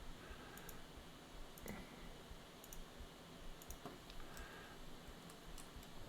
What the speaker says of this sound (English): Crappy keyboard.